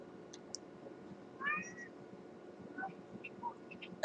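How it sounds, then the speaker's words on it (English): A cat meows a few times just outside a door, in short, soft calls spread across a few seconds against a quiet room, with no talking. "I can hear a cat. Is that your cat?"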